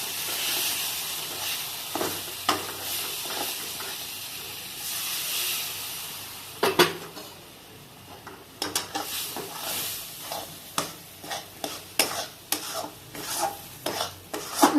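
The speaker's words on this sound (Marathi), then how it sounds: "पाणी घातल्या घातल्या याला आपण ढवळायचं हे लगेच असं फुलून येतं" Wheat flour sheera cooking with ghee and jaggery is stirred after water goes in, a soft steamy sizzle underneath while a spoon scrapes and taps the pan in quick, irregular strokes, close by; no speech.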